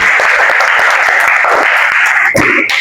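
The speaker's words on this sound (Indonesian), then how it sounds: "Kasih aplaus untuk teman kita yang sudah presentasi." Applause for classmates who have just presented in a classroom: a loud, dense burst of clapping from a group, sustained and fairly even, with a few sharper claps and a brief dip near the end.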